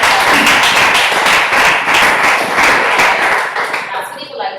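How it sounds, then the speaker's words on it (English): Applause from an audience at a youth training meeting, a dense wash of clapping that stays loud and steady for several seconds before thinning out at the end. "Let's give this a round of applause."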